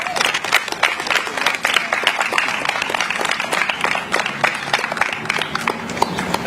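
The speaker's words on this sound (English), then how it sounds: "Let's give a round of applause for Dallas Ducar." An audience at an outdoor Pride flag raising ceremony gives a round of applause, with dense, steady clapping from many hands that goes on without a break and has no talk over it.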